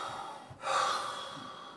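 Synthetic breathing generated by a text-to-sound program, heard as a soft airy exhale or sigh that swells after a brief pause and then fades gradually, alone with no talk.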